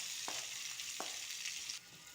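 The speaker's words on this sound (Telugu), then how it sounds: "ఇప్పుడు తాలింపు పచ్చళ్ళు వేసేసుకుంటున్నాం" Oil sizzles and spatters softly as a tempering is fried for a village-style brinjal and tomato chutney, with a few light stirring taps against the pan, quiet and close.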